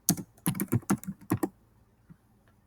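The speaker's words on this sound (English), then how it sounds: "I just have to type in the topic" Computer keyboard typing in a quick burst of about a dozen close, crisp keystrokes over roughly a second and a half, followed by near silence.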